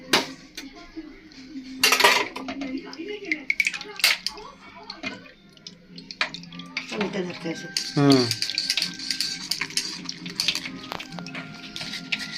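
Water splashes and trickles amid clinking steel dishes and utensils being washed, with occasional voices in the background.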